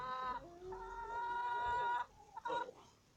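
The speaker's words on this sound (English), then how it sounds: "There's the rooster." A rooster calls loudly and nearby in a garden with a drawn-out, tonal vocalization, then gives a shorter squawk after a brief pause.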